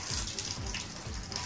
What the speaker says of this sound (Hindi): पानी टपकता है।